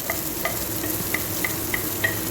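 Onion, crushed ginger and garlic, two green chilies and curry leaves are sautéed in a pan for tomato rice, with a steady sizzle and a series of light, evenly spaced scraping taps from stirring.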